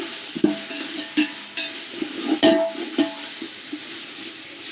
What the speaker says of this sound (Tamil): இஞ்சி பூண்டு பேஸ்ட்டு அதையும் சேர்த்து நல்லா அதோட பச்சை ஸ்மெல் போகிற அளவுக்கு நல்லா வதக்கணும்